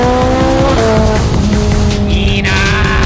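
Ferrari and Lamborghini Aventador supercar engines rev hard and loud at close range, their pitch stepping and shifting across a few seconds of continuous roar.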